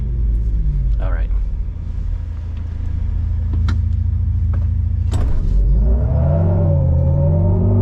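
A 2023 Hummer EV launches and accelerates hard, producing a loud, rising electric whine over a deep road rumble, with occupants talking and laughing over it.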